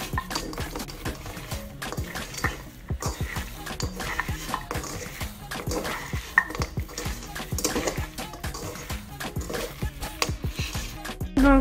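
Spoon stirring a cinnamon-spiced filling for ktayef in a bowl, a steady run of soft clinks and scrapes against the dish, close and continuous with no talking.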